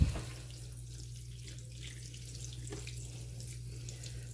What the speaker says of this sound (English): And then I'm just going to rinse it out.